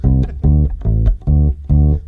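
A bass guitar plays a brisk bluegrass intro, five quick, strong plucked notes in a tight, even bounce, close and loud with nothing else heard.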